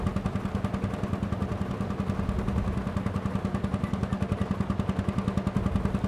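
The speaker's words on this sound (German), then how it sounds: "Das ist ein schöner Traktor, wirklich einfach schön, spitze." An old tractor engine in Farming Simulator 22 runs steadily with a rapid, even low-pitched chugging. It stays at a constant moderate level with no talk over it.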